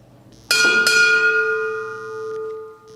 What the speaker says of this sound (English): Sound, 2 bells.